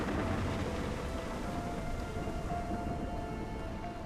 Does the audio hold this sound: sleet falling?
yes